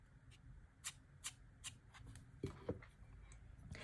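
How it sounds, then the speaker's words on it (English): A dry watercolour brush rasps across dry paper in quick vertical strokes, each a soft, scratchy swish. Several land in an uneven rhythm, close and quiet, with no talking. "I create these dry brush strokes, moving my brush vertically."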